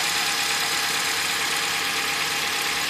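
Car engine idling during an oil change, a steady loud broadband mechanical hum with a faint whine, continuous and close, with no voices.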